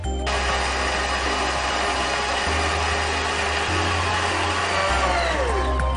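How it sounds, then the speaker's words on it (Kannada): A kitchen mixer grinder runs continuously, grinding batter with potato and a little water to a fine paste, a steady loud motor whir with slight shifts in pitch and no speech. "ನುಣ್ಣಿಗೆ ರುಬ್ಬಿದಾಯ್ತು."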